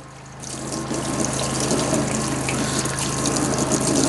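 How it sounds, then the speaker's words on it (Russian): Hot water runs steadily from a kitchen tap with a continuous close gushing hiss and a low hum underneath, starting within the first half second and carrying on unbroken, with no talk. "Горячая вода."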